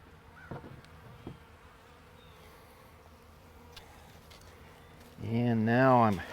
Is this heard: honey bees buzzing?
yes